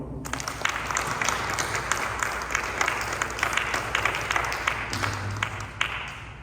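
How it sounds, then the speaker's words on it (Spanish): A university audience gives sustained applause to welcome a speaker, dense clapping that fills the room at an even level and then thins out toward the end. "Acompaña a dar la bienvenida al diácono Memo con un aplauso, por favor"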